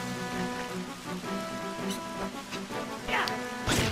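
Rain falls in the Final Fantasy XI game world as a steady patter, layered under tonal game music and a few sharper effect sounds near the end.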